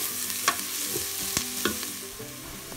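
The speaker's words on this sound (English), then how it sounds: "add 2 tablespoons of ginger garlic paste, fry until golden brown." Ginger garlic paste frying in an Instant Pot, with a steady soft sizzle and a few sharp scrapes and clinks of a stirring spoon against the pot.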